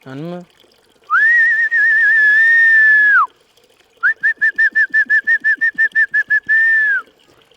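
A person whistles a wavering melodic phrase, then a quick run of short staccato whistled notes ending in a held tone, close and clear.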